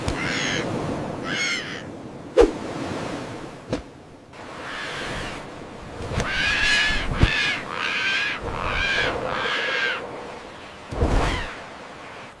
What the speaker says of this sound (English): Go away, greedy birds.